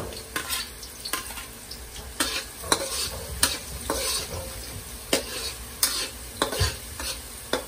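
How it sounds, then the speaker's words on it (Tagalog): Garlic sautéing in a pan for a creamy spaghetti with corned beef, a steady close sizzle broken by regular sharp scrapes and knocks of stirring, with no talking. "Unahin po natin igisa yung bawang."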